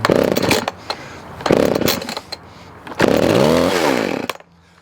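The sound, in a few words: chainsaw being pull-started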